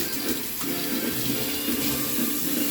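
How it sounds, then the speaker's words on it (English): A kitchen tap runs steadily as hands are washed beneath it while cooking with onion and jalapeno, a close, continuous splashing of water with no talking. "Wash your hands again."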